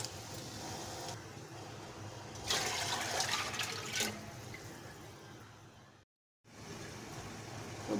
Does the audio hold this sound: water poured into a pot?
yes